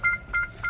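A Sonata hybrid car sounds a warning tone, three short electronic double-pitched beeps in quick succession, faint over a low rumble.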